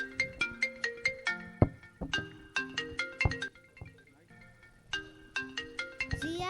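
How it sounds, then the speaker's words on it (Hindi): A phone ringtone plays a repeating bright, chiming melody of plucked notes, fairly near and steady, pausing briefly before starting again. "जिया जागो देख किसका फोन बजते हैं।"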